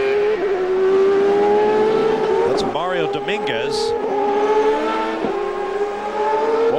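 CART Champ Car race cars at 2002 Cleveland qualifying drone loudly as they circle the track, with a brief burst of tire squeal and pass-by noise midway and a commentator talking over the engines.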